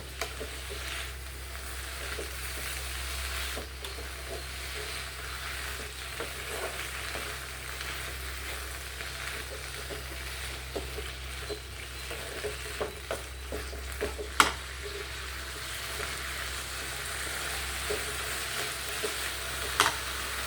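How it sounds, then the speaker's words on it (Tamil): Mint leaves frying in a pan for green chutney, with steady soft sizzling and occasional scraping stirs and sharper clinks of a spoon, continuous and close with no talking. "இந்த புதினா தலை எல்லாமே ரொம்ப வணக்கக்கூடாது, ஓரளவுக்கு சூடானா போதும்."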